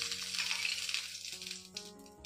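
A sandwich fries in a little oil in a pan on a high gas flame, with a bright, loud sizzle that fades, plus a few clinks of utensils near the end.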